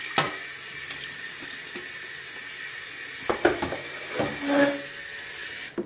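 Tap water runs steadily into a sink to rinse off leftover soap, a continuous broadband hiss with a few brief clatters and splashes partway through, close and fairly loud, with no talking.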